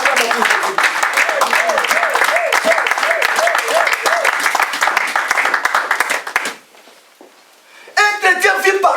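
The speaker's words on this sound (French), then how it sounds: "On acclame pour Jésus-Christ." A church congregation applauding for Jesus Christ, loud sustained clapping mixed with shouting and a voice over it, pausing briefly before voices return.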